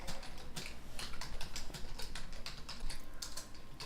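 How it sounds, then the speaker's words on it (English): Fast, continuous typing on a computer keyboard, dense clicky keystrokes with a few heavier taps, close and steady throughout with no talking. "Start typing."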